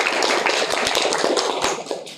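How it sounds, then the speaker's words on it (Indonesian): A classroom of students claps for the second presenting group, a brief burst of quick, close hand claps with a few sharper individual smacks, fading slightly toward the end. "Tepuk tangan untuk kelompok kedua."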